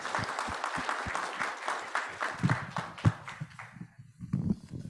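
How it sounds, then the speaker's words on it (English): A meeting audience claps for a doctor after his talk, a short burst of scattered hand claps that thins out and fades over several seconds with some low thumps mixed in. "Give him a round of applause"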